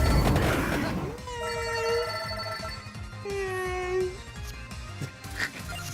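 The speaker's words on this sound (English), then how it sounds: "She'll just sit over there and meow" A cat gives two drawn-out, wavering meows over a steady hum and clatter of background noise, with no talking.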